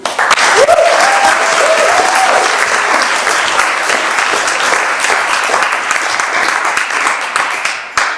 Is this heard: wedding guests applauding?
yes